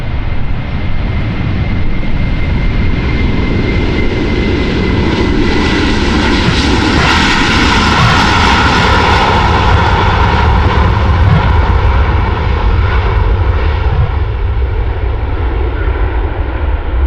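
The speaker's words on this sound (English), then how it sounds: "A330-300 will be going to Detroit, and it is 6 years old. Also listen to the sound when it spools up." Airbus A330-300 jet engines spooling up for departure on runway 36L at Amsterdam Schiphol, a loud sustained roar that swells and rises in pitch, heard alone without voices.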